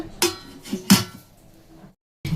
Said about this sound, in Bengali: এখানে দিয়ে দেবো এই ঢাকাটা